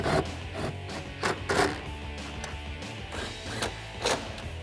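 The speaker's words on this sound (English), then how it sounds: "I'm going to use my 11mm socket and just lightly tap them down" An 11mm socket lightly taps tail light fasteners down on a 2010-2012 Mustang, giving about ten close, sharp knocks at uneven intervals, with no talking.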